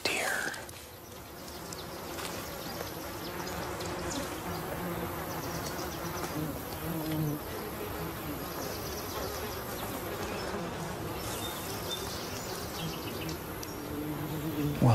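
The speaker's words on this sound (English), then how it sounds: "I can hear flies buzzing around." Flies buzz around the carcass of a dead mule deer outdoors, a dense continuous whining drone with passing insects swelling nearer and fading, fairly close, with soft whispered speech faintly beneath.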